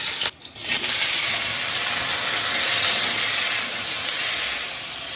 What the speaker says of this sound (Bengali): আজকে জিরে কাঁচা লঙ্কা ফোড়ন দিয়ে আলু ভাজবো।